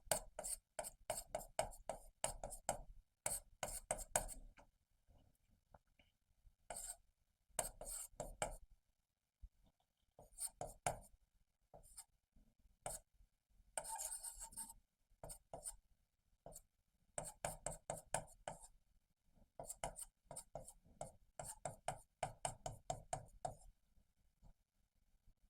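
A teacher writes on a board during a chemistry lecture: close, rhythmic tapping and scraping strokes come in irregular bursts, with short pauses between runs of writing.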